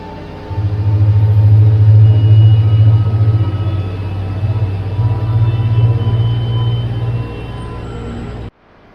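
A tractor hauling a loaded 14-ton dump trailer of quarry stone rumbles along with a steady, heavy low engine drone from inside the cab, holding for several seconds before cutting off abruptly.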